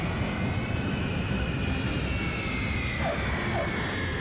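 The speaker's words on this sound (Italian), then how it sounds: "L'aereo ha abbassato il carrello di atterraggio. Vuol dire che sta per atterrare." Steady broadband roar of a cartoon airplane coming in to land with its landing gear lowered, a continuous loud engine drone filling the whole span with no breaks.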